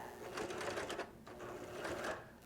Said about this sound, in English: And then I'm going to back stitch